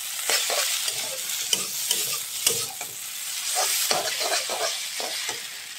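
Fried eggs being stirred into egg chowmein in a hot pan, with a spatula scraping and tossing in irregular strokes over a continuous close sizzle.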